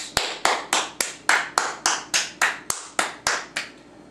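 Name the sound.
round of applause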